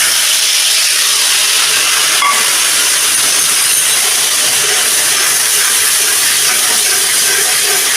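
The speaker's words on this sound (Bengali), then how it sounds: "এই পেস্টটা আমি কড়াইতে দিয়ে দিচ্ছি।" A spice paste hits a hot wok and sizzles loudly and close, a dense steady hiss that lasts throughout.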